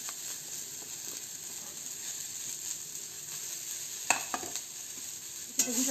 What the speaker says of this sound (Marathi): आता आपल्याला आपली ही कोथिंबीर भाजायची आहे, कोथिंबीर छानशी भाजून घ्यायची